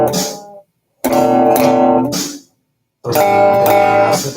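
Guitar strummed in steady chords over bass and drums, in two loud bursts with a sharp muted stop between them, close and full.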